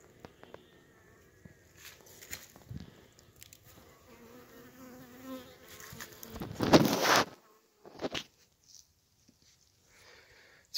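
Honey bees buzz at a hive on a cool December day, a faint close hum with scattered louder passes, a brief burst of handling noise in the middle and a few soft knocks, with no talk.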